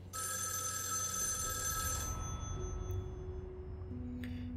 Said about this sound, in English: Oh, go answer the phone.